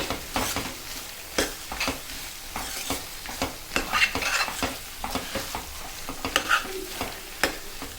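Aloo capsicum curry with fresh coriander being stirred in a pan: repeated scraping and knocking strokes of a spoon over a soft, continuous frying sizzle, close and fairly quiet.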